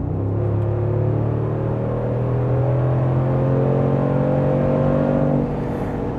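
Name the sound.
Mercedes-Benz G 63 AMG engine revving on acceleration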